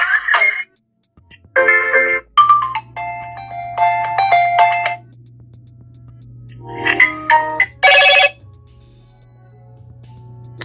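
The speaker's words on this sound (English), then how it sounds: "the sounds for your ringtones. Let's go to Moto ringtones." Several short Motorola (Moto) phone ringtone melodies play one after another, bright electronic tones starting and stopping, with a steady low hum underneath between them.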